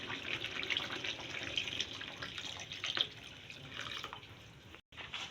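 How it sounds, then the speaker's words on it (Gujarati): Water runs and splashes into a pan of cooking sev tomato curry in a soft, continuous trickle with faint drips, close and quiet, with a brief dropout near the end. "હવે એમાં આપણે થોડું પાણી નાખીશું"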